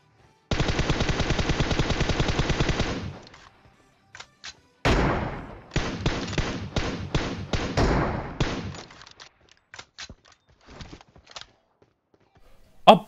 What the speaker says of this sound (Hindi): ये गोलियां पटकाए जा रहे हैं